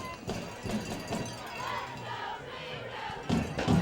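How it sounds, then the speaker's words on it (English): A football crowd at Patriot Stadium roars during a 2004 high school state quarterfinal, Teaneck vs Wayne Hills, with the noise swelling in loud bursts and individual voices shouting within the din. "Patriot Stadium was rocking. They were loud and cheering."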